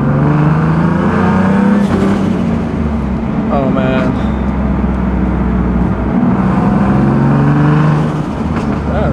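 A boosted Nissan 370Z Nismo engine rumbles loudly and close, with short blips and revs during an exhaust leak check, while someone talks over it.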